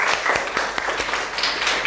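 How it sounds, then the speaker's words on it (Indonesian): Classroom applause from a group of students, dense rapid clapping at moderate volume, steady throughout and heard alone. "tepuk tangan untuk kita semua"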